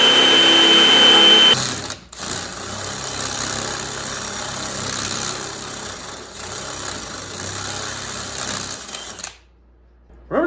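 A DeWalt DCD998 hammer drill bores through wood. A high motor whine gives way to steady, close-up grinding that runs for about eight seconds, then cuts off sharply.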